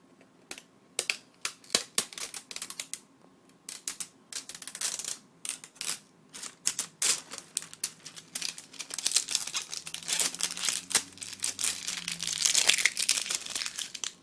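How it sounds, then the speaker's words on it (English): Protective plastic film being peeled off the screen of an ASUS Eee PC 1015PEM laptop, a long run of close crinkling, crackling and ticking bursts that grows denser and louder toward the end. "Now I peel off the screen's plastic."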